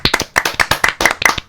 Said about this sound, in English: let's do a little group round of applause for everyone else who's gone